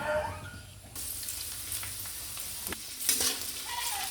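Ghee sizzling in a pan while fried rice is cooked, a steady broadband hiss that jumps louder after the first second, with occasional spatula scrapes and crackles throughout.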